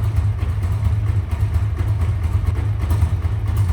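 A Harley-Davidson motorcycle engine idles nearby after a front engine mount replacement, with a steady, deep, throbbing rumble that holds constant throughout.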